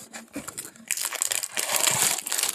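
A Skull Panda blind box package is torn open close up, with crisp crinkling and tearing of foil wrapping that grows louder and busier after the first second.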